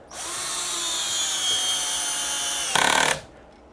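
Power drill driving a screw through a faceplate into a large wooden platter blank: a close, loud, steady motor whine lasting a few seconds, ending with a brief harsher burst as the screw seats before stopping.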